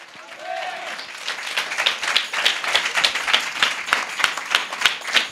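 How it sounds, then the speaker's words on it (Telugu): A congregation applauding during a Telugu church service, a swelling burst of dense hand clapping that settles into a steady, rhythmic clap in unison, with a voice briefly heard at the start. "Just give big claps to the lord యెషూవా."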